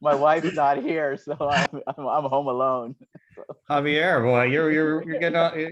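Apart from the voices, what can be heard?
None of the usual background noises is heard.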